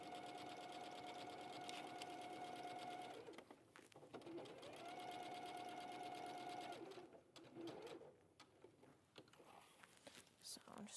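Sewing machine stitching a top stitch with a longer stitch length, loud and steady whirring in two runs separated by a short pause, then quieter handling sounds and light clicks.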